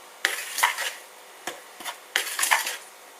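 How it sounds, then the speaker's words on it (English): A spoon works chicken pieces through a bowl of flour in three short bursts of scraping and stirring, close by, with brief pauses between strokes. "we're going to just use a spoon to mix it all in"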